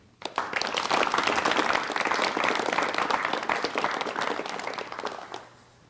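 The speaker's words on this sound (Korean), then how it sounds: "여러분 박수로 환영해 주시면 고맙겠습니다" A studio audience applauds to welcome a guest, a former university president, onto a Korean broadcast talk program; loud, dense, sustained clapping starts abruptly and runs steadily before tapering off.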